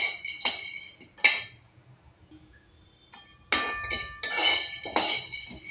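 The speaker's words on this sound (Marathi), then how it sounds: "पहिल्यांदा मी कढईमध्ये शेंगदाणे टाकत आहे। लो फ्लेमवर व्यवस्थित भाजून घ्यायचं आहे लालसर होईपर्यंत।" Peanuts dry-roasting in a kadhai over a low flame, heard as bright clinking and rattling as the nuts are stirred and tossed against the metal, in separate bursts with quiet gaps between.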